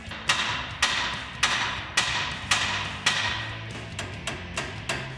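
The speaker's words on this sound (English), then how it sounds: "We're gonna take a hammer. We're gonna smack this knuckle right here." A hammer smacks the steering knuckle on a 1987-1995 Jeep Wrangler YJ: about nine sharp metallic blows in a steady rhythm, close and loud, each ringing briefly before the next.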